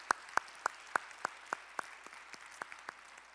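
In a Sunday church service, the congregation gives a short round of clapping: about a dozen separate, evenly paced claps, fairly faint and set against a quiet room.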